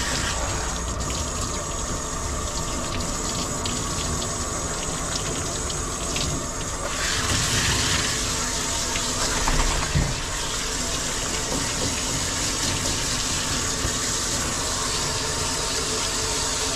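Steady, loud rush of running water from a tap or sprayer rinsing soap off a golden retriever during grooming, filling the whole stretch with a dense gushing hiss that thickens slightly midway; no talking.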